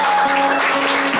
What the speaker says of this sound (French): Donnez-lui les acclamations.